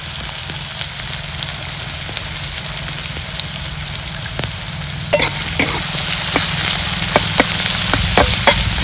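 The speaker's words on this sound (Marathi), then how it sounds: "कांदा चांगला लाल करून आपल्याला भाजून घ्यायचा आहे" Onions fry in a pan over a wood-fired stove for a spicy ridge gourd bhaji, giving a loud, steady sizzle with sharp scrapes and clicks from a stirring utensil, close by and with no talking.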